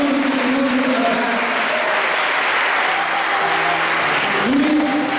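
A church congregation applauds loudly and continuously, a dense wash of clapping filling the room while a preacher's voice rises over it.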